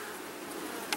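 Honey bees buzz at a hive in a faint, continuous drone that stays quiet and steady throughout, ending on a brief louder sound.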